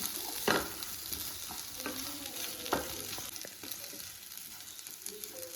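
Chicken varav being stirred in a frying pan, with a soft steady sizzle of frying under a few distinct scraping stirs of the spoon against the pan, close and moderately quiet, no voices.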